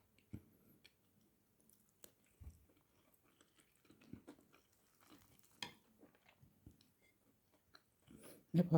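Someone eating rice quickly, close and quiet: soft chewing and biting with light clinks of cutlery against a bowl, scattered through the stretch and ending in a louder rustle.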